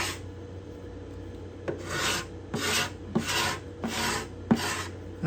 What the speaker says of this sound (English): I'm going to try a different scraper here, right in here